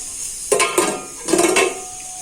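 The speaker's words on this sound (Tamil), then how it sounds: "இப்போ குக்கர் மூடி போட்டுருங்க." A metal pressure cooker lid clanks twice and settles onto the pot, close and distinct, while country chicken curry cooks in a home kitchen.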